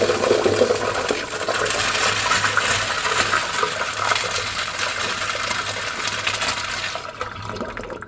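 A Kohler Freshman urinal runs its bowl rinse, a loud steady rush of water pouring and splashing for several seconds before tapering off near the end.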